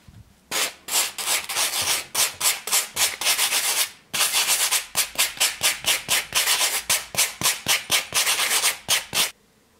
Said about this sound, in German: Als nächstes werden wir hier die groben Ecken und Kanten abfeilen.